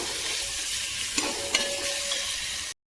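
Onion, tomato and curry leaves sautéing in a pan for a village-style country chicken curry, a steady close sizzle broken by a few scraping stirs of a spoon, with no voices.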